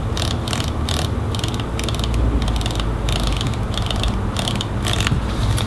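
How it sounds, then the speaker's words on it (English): Aperture ring on a Fujifilm XF50mm F2 lens being turned through its f-stops, giving a dense run of crisp mechanical clicks in quick bursts, close and fairly loud. "Those f-stop clicks are very, very nice."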